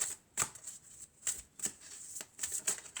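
A deck of oracle cards gets shuffled by hand: quick papery riffles and slaps in a loose rhythm, close and soft, with no voices.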